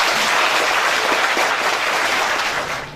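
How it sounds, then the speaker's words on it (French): A crowd at a football club's electoral congress in Lavie, Togo, applauding steadily, a dense and loud clapping that fades slightly at the end. "on doit applaudir pour ça."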